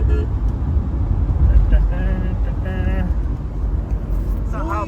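A car's driver-assistance system speaks a short synthetic voice warning about an object on the road, heard in a few tonal bursts over steady engine and road rumble inside the moving vehicle.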